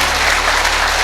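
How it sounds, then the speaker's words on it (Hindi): Audience at a motivational business talk claps heavily and continuously, a dense wash of applause filling the whole stretch at steady loudness with no voices over it. "जितनी ज्यादा आप तालियां बजा सकते हैं वो बजाएं"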